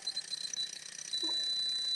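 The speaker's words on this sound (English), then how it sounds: "you can also hear this really annoying noise coming from this buzzer" An electric buzzer run from a small power station gives a steady, high-pitched electronic whine that holds continuously for about two seconds, close and fairly loud, with no voices over it.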